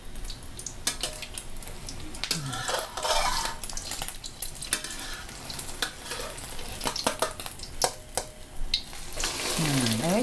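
Beaten egg for a Thai puffy omelette fries in hot oil, giving a continuous crackling sizzle with intermittent clinks and scrapes of a utensil against the pan.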